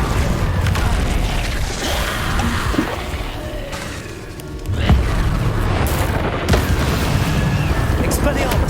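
Confringo blasting spell explosions in Hogwarts Legacy, a dense run of loud booming bursts and crashes layered over continuous game noise, with heavier impacts near the middle and end.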